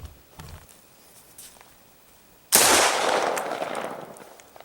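An AK-47 rifle with a 30-round magazine fires a single loud, sharp report after a quiet stretch of faint handling sounds, its blast ringing out and decaying slowly over the following two seconds.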